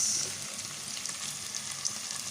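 Chopped tomatoes sauté in a hot pan for Filipino afritada, a steady soft sizzle with light stirring scrapes, close and alone without talk.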